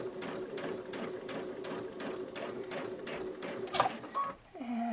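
A Babylock Solaris 2 sewing machine stitches slowly with a soft, steady mechanical chatter of evenly spaced needle strokes, heard quietly from a short distance before the motor stops near the end.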